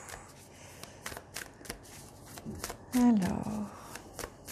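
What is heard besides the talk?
shuffling tarot cards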